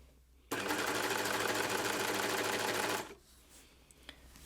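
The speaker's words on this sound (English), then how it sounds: "So you can just sew a little section like that, stop, reposition, make sure you're happy with where everything's feeding through the channel." An overlocker stitches a short section of fabric while inserting a zip with piping, a loud, steady rapid mechanical whirr that runs about two and a half seconds, then stops abruptly with no talk.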